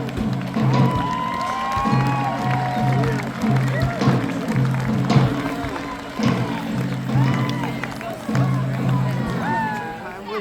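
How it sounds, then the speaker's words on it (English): A crowd applauds and cheers for the royal court before the jousting at the Pittsburgh Renaissance Festival, with steady clapping, whoops and shouts rising and falling, and people talking throughout. "Please, round of applause for them."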